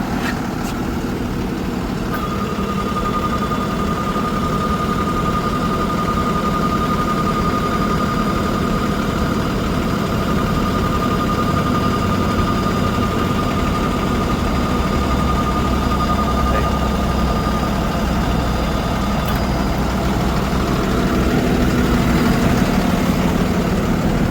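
A Cummins 6.7-liter diesel idles steadily in a 2012 Freightliner M2 forestry bucket truck with an automatic transmission, producing a constant, loud, low rumble with a faint whine and no change in revs.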